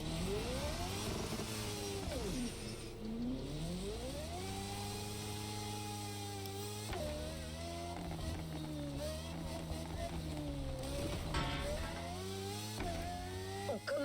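A racing car in the video game The Crew Motorfest, a rallycross race with a Ford Puma hybrid, revs and shifts through gears steadily over about fourteen seconds, the engine note rising and dropping with each change.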